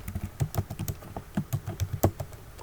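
Typing on a computer keyboard while entering VBA code in Microsoft Excel: quick, irregular key clicks close to the microphone, soft and steady with no speech.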